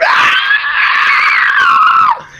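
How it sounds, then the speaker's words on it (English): A loud, continuous high-pitched shrieking scream from ghostly specters, sustained and wavering for about two seconds before cutting off, heard alone without any talk. "Each of them lets loose an incredibly ear-shrieking scream"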